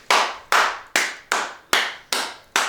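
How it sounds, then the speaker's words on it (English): Seven sharp hand claps in a steady rhythm, roughly two per second, close and loud with brief decays and no talk, made to cleanse a jar for a money bowl. "give it a round of applause"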